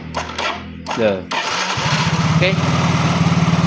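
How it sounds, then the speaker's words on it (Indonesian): A Yamaha Mio J scooter's starter is pressed, the engine cranks briefly, then catches and settles into a steady, rhythmic idle close by, with a short spoken word at the start. "Oke, tombol starter kita pencet."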